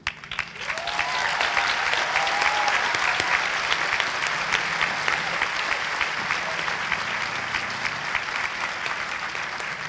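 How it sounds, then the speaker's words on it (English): Sustained crowd applause at the Reed College 2024 commencement for the graduating class, a dense, steady roar of many hands that swells within the first second and holds throughout, with faint cheers mixed in. "And now I invite your applause for the class of 2024."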